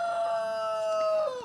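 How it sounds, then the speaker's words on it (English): A rooster crows once in a long, loud drawn-out call that holds steady and then drops away at the end, heard alone with no talk. "Like a rooster."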